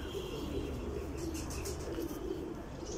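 A breeding pigeon, a high-quality female, coos softly in a low murmur over steady background hiss, faint and close, with no talking.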